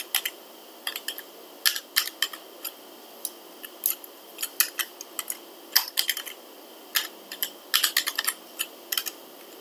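Quick, irregular clicking of keys on a computer keyboard as a new project entry is filled in, with bursts of several keystrokes and short pauses between them, close and clear over a quiet room.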